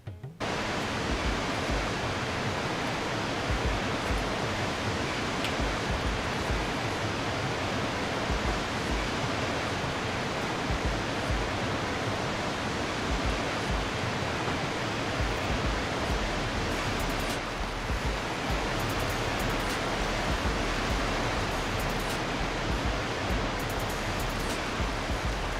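A waterfall on a forestry logging map in a farming simulator game: a steady, loud, broadband rushing roar of falling water that holds constant for the whole stretch, with no voices over it.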